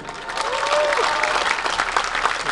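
Audience applause at a dance event fills the room, with a dense, steady clatter of clapping hands throughout and a few voices calling out over it.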